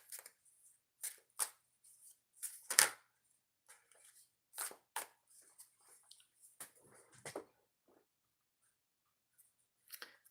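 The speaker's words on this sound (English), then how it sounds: "Three shuffles for pick a card reading number 3." Tarot cards are shuffled in several quick, crisp bursts of riffling and flicking, close and fairly soft, with quiet gaps between them.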